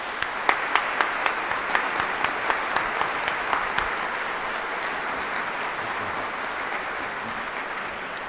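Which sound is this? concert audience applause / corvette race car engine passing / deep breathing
concert audience applause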